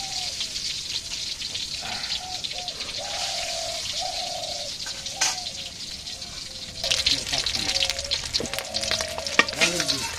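Egg and potato curry fries in a pan with a steady, close sizzle and occasional stirring scrapes, while chirping tones and light clatter sit in the background, growing busier toward the end.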